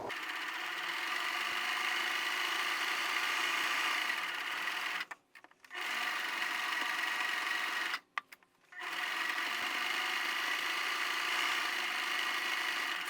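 A sewing machine runs steadily while stitching the seam of a reusable cloth pad, its whirring hum cut by two short pauses as the needle is set down and the fabric is turned, then resuming.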